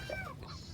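A short cat meow, fairly faint, with a soft rising-falling tone over low background noise.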